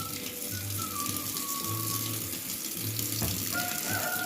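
Water pours in a steady continuous stream, close and moderately loud, with a few faint tonal squeaks over it and no talking.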